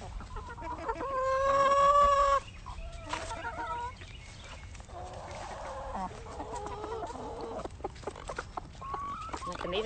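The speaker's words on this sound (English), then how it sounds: "And these are happy hens right here." Hens cluck and call near the microphone, with bursts of harmonic squawking at the start and scattered softer clucks over light background noise.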